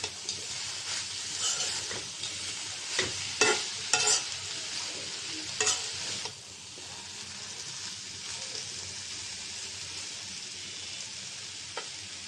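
Bitter gourd and potato fry uncovered in a pan, a soft continuous sizzle broken by several sharp spatula scrapes and knocks in the first half, then quieter, even frying.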